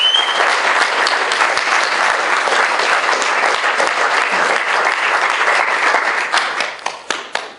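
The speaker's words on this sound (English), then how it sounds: "can we have just another big round of applause for 500 artists?" Loud, sustained applause from a crowd at the official opening of an arts weekend at the University of Plymouth, honouring artists, thinning out at the end into a few scattered final claps.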